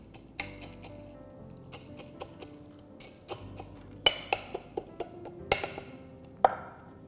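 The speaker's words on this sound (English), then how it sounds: "I'm just going to coarsely crush these" Roasted peanuts being coarsely crushed, a series of sharp knocks, clinks and crunchy taps that come in irregular bursts, close and fairly loud, with no speech.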